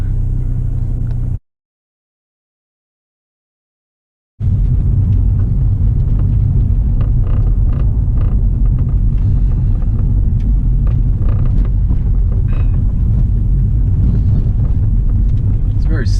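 A 2018 Mini Cooper S John Cooper Works sports car pulls away in drive, its engine rumbling steadily from inside the cabin after a brief silent gap, with people talking over the drone.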